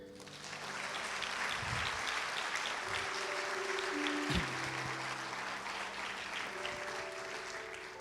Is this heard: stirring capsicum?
no